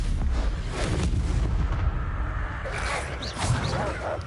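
A Stupefy stunning spell cast in Hogwarts Legacy, a dense booming magical blast with rumbling low-end impacts and crackling bursts layered over continuous loud combat noise.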